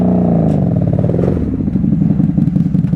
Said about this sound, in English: I barely ever get to ride a bike into a trailer.